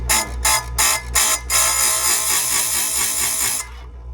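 A chainsaw chain is sharpened on a chain grinder: four short grinding bursts in quick succession, then one long steady grind of about two seconds that cuts off abruptly, loud and close with no talking.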